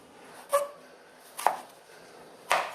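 Elephant foot yam being chopped for Kerala-style avial, three separate sharp knife strikes on a board spaced about a second apart, fairly close and clear against a quiet background.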